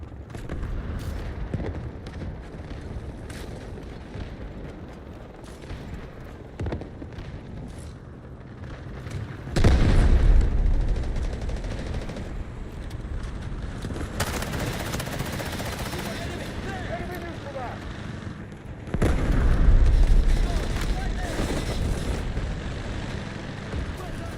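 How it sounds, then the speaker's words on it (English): Artillery barrage and gunfire from the video game Delta Force: steady distant rumble and scattered shots, with two heavy booming surges of explosions, under radio-style voice chatter. "Roger that, artillery barrage incoming."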